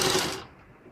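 A sewing machine stitches around a corner of fabric in one short, fast rattling burst that stops abruptly, leaving near silence.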